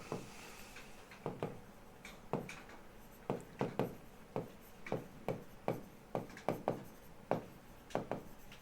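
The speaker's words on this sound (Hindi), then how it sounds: "मैं लिख देता हूं यहां पर" Chalk or marker writing on a board during a Class 12 chemistry lesson on ionic equilibrium, a steady series of short tapping strokes and scrapes, fairly close and clear, with no talking.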